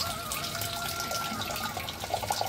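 Curdled milk and cold water pour through a cotton cloth to strain chhena for rasgulla, a steady close splashing trickle of liquid running alone for the whole stretch.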